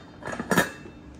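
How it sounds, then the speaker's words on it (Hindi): A set of induction cookware, including a large frying pan, a saucepan and two pots, clanks briefly as the pieces are handled, with one sharp metallic clatter in the middle of a short, close burst. "सो ये एक बड़ा फ्राई पैन है, एक सॉस पैन है, एक ये पॉट और एक ये छोटा पॉट है।"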